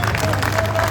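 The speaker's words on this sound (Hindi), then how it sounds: "जोरदार ताली बजनी चाहिए, जोरदार ताली बजनी चाहिए।" An audience claps at a mushaira Urdu poetry gathering in Mira Road, Mumbai, a brief, dense burst of applause from a crowd indoors with voices mixed in.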